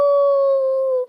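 A dog lets out one long, loud, steady howl lasting about a second, close and alone, fading out at the end.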